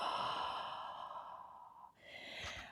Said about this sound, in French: expire par la bouche